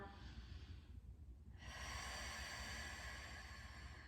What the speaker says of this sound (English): And one more big breath in and out.